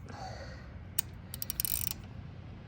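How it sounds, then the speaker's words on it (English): A wrench cranks on the oil drain plug of a 2022 Harley-Davidson Low Rider ST, giving a quick burst of ratcheting clicks over a low background hum, close and fairly quiet. "You just gotta use the wrench to break it, and then break it open"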